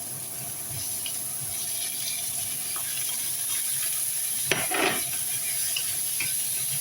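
Leftover adobo sautéed in a pan for pancit spaghetti, a soft steady sizzle with a short burst of scraping and splashing near the end.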